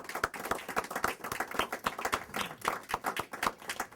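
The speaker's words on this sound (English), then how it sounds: "We want to give a round of applause to our guests." An audience applauds guests at a Harlem oral history event with Antonio Hart: dense, steady clapping from a nearby crowd, lasting throughout.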